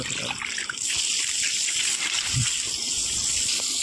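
Continuous water gushes and splashes steadily onto a lawn, a bright hissing flow with a faint low thump partway through.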